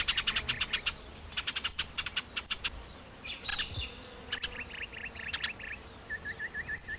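Birds at an Australian waterhole call in repeated bursts of sharp chirps and short trilled phrases, some near and some farther off, over a soft outdoor background with a kangaroo present.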